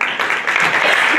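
A conference audience at a media and marketing event in a Bucharest hotel applauds Felix Tătaru, a loud, close, dense wash of clapping that runs steadily throughout.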